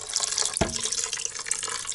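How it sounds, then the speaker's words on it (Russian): Water pours from a tap over barley groats in a multicooker bowl, a steady close splashing and trickling that keeps going all the way through, with a brief louder splash near the start. "И заливаю все водой, чтобы вода только покрыла нашу крупу."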